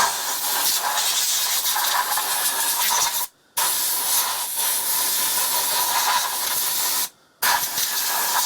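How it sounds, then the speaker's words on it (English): Compressed air hisses into the intake pipe of a Mazda MX5 NC during a K&N induction kit install, two loud steady blasts of about three seconds each, cut by brief silent pauses. "Just get a bit of compressed air in there."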